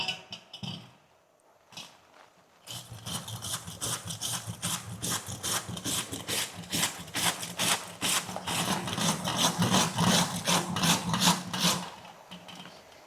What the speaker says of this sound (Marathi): आता आपल्याला मुळा किसून घ्यायचा आहे किसणीवरती आपण किसून घेऊया